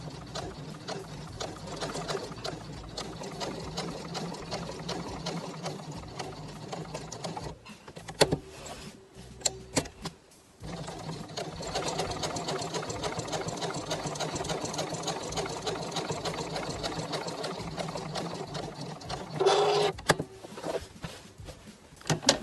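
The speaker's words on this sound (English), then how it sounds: "I'm just going to put my needle down, and I'm just going to go nice and slow and try and stay in that seam" A sewing machine stitches slowly along the seam of a washable patriotic heart-block throw pillow made from fabric scraps, with stitch length set at 3.2. Its close, steady running hum breaks off briefly in short pauses before resuming.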